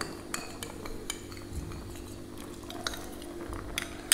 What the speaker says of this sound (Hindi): पहले अच्छे से स्टर कर लेंगे क्योंकि नीचे बैठ जाता है